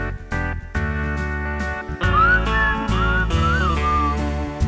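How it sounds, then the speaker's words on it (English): Someone whistles a tune with clear sliding notes over an instrumental backing track from a Yamaha Genos keyboard. "I could actually whistle. It's probably more melodic."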